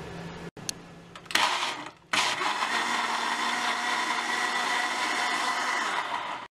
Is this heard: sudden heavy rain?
no